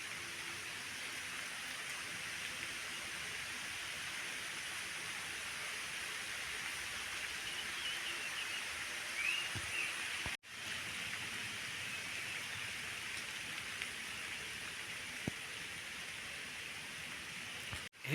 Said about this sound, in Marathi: हा जो पाऊस जो येतो ना तो जोरात येतो असं वाटतो